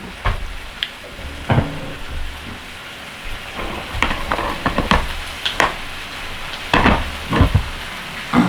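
Rice for bokkeumbap sizzles in a hot pan under a soft steady hiss, with irregular scraping and clinking bursts as a spoon stirs it, close and moderately loud, with no talking.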